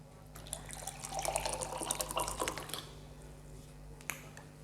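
Room-temperature RO water pours into a glass: a steady splashing trickle runs for a couple of seconds, then tapers to faint drips, with one last drop near the end. Close and fairly quiet.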